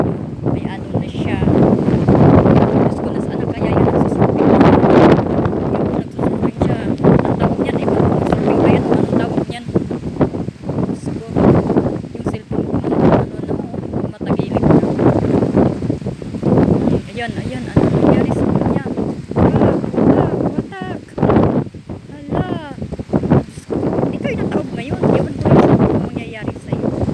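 Strong wind during heavy rain in Dubai blows in a loud, gusty roar buffeting the microphone, rising and falling continuously while people talk over it.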